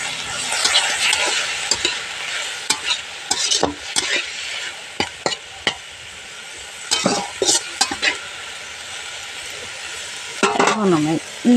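Banana flower is stirred with salt and turmeric in a frying pan: a steady sizzle runs throughout, broken by scraping strokes and clinks from the spatula, close by, with no voice over it.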